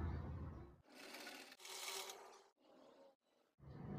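A sewing machine stitches fabric for a child's dress, running in several short bursts of whirring motor and needle chatter separated by brief pauses.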